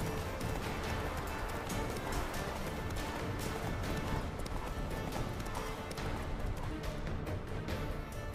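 A horse gallops at speed in The Witcher 3 video game, with a steady, continuous drum of hooves over dense in-game ambience and no speech.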